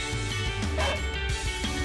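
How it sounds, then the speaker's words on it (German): A rescue dog barks repeatedly in a forest during a search exercise, the sharp close barks running in quick succession over steady outdoor background. "Der Hund bellt und der zeigt uns quasi,"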